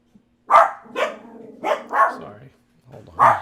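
Dogs barking and growling indoors in short loud bursts, about five gruff barks spaced unevenly over a few seconds, mixed with voices.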